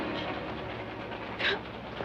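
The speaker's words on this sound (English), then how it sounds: "The first thing you can do is stop this train." Steady rumbling of a moving train with a constant low clatter throughout, and a brief brighter squeal partway through.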